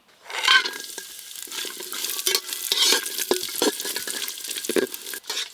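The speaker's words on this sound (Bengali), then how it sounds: "ঘি দিয়ে ভালো করে ভেজে নেব।" Cashews, almonds, raisins and coconut fry in ghee in a pot, a loud steady sizzle broken by scraping stirs and the clatter of a spoon through the nuts.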